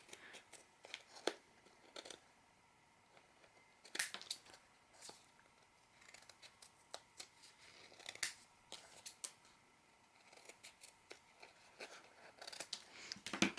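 Scissors snip and trim paper for a handmade mini album, a string of close, crisp cuts in short bursts with brief pauses between, and no talking.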